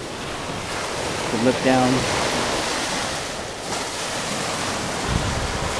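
Ocean waves wash onto a resort beach in Bohol, Philippines, at high tide, a steady broad rush mixed with wind noise, while a person speaks briefly over it.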